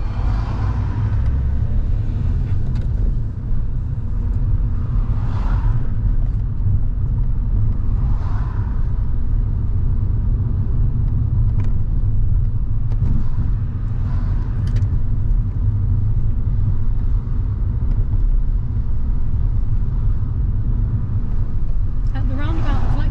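A learner driver's car on a practical driving test, approaching a roundabout, gives a steady low engine and road rumble throughout, close and continuous, with occasional faint voices.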